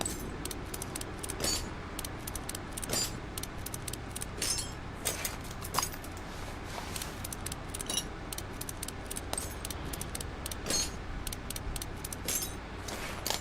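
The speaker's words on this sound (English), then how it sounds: "So we'll crank off these nuts and... Bye-bye, muffler." Rapid metallic clicking and ratcheting as nuts are cranked off to remove a muffler in Car Mechanic Simulator, a dense, busy stream of small tool clicks and clinks running steadily throughout.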